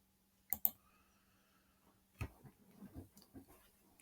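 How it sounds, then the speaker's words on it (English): Two sharp computer mouse clicks close together near the start, made while starting an export in a video editor, followed by faint scattered handling noises in a quiet room. "I'm going to move the mouse pointer down here and click 1080p to begin an export"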